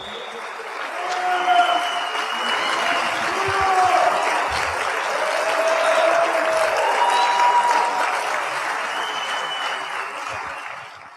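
Sustained applause from a large audience at a college athletic hall of fame induction ceremony, steady and full throughout, with a few faint cheers rising above the clapping.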